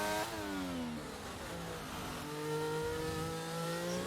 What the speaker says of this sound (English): the RPMs don't sound right on this car